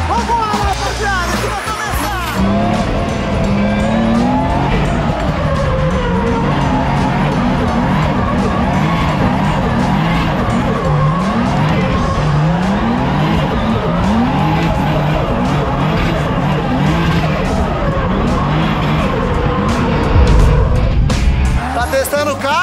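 A Nissan 350Z drifts with continuous loud tire squeal and a revving engine, sustained throughout alongside other car noise, with people talking over it.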